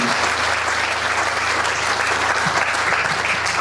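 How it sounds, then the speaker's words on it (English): Sustained audience applause at a music hall of fame ceremony, a steady, dense wash of clapping at even loudness throughout, with no voices on top. "Can we give him a round of applause?"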